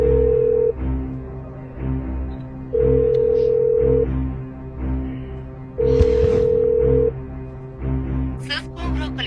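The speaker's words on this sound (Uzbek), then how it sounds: "Hozir unga qo'ng'iroq qilaman." A telephone ringback tone sounds during an outgoing call: three long steady beeps separated by pauses, loud and close, with a voice speaking in the gaps.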